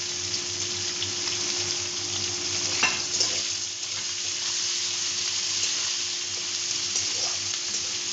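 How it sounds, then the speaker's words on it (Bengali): Chopped onions frying in oil over a lowered gas flame for a Kasuri chicken curry, a dense, steady sizzle with an occasional soft stir or scrape, close and unbroken, no talking. "বাকি যে পেঁয়াজ টুকু রয়েছিল কাটা সেটুকুনি এবার তেলের মধ্যে দিয়ে দেবো"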